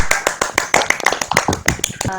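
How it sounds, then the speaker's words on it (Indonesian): Children in a classroom clapping hands, a loose run of sharp, close claps in quick irregular succession with a voice briefly audible near the end. "silakan tepuk tangan anak-anak"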